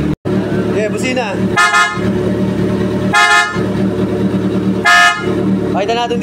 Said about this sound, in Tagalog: Okay, busina.